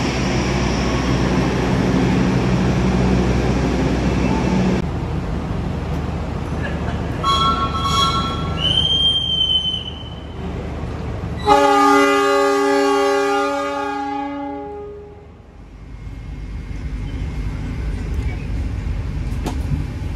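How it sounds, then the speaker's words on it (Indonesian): The Logawa passenger train departs Purwosari station, Indonesia, rumbling loudly nearby, wheels and engine droning, with a brief horn-like tone partway through before the noise recedes and fades. "Ini kereta api Logawanya berangkat duluan tuh."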